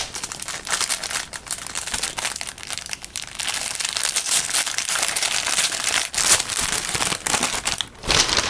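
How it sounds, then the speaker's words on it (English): Packaging from an ordered stationery delivery being opened carefully, continuous close crinkling and rustling of paper and plastic wrap with brief crackles throughout. "I'm gonna try and open these without ripping them."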